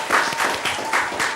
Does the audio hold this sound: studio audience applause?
yes